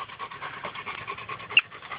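Hunting dogs pant rapidly and steadily at a tree where a rockchuck is holed up, the quick rhythmic breaths close by, with a brief sharp sound near the end.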